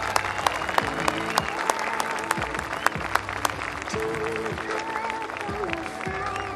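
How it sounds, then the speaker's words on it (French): A crowd applauds steadily and loudly at a ceremony honoring a military aircraft mechanic, with dense sustained clapping throughout and a faint voice underneath. "qu'on peut applaudir très fort."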